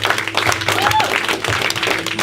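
A church congregation at a thanksgiving service applauds, producing loud, continuous, close clapping with scattered individual claps and faint voices mixed in.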